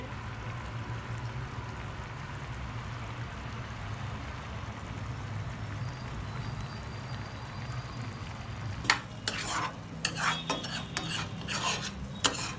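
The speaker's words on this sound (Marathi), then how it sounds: "मस्त पैकी मसाला शिजायला लागलाय हे" Butter chicken masala of tomato paste and water simmers in a pan with a quiet, steady sizzle, then a spoon stirs and scrapes against the pan in several clattering strokes near the end.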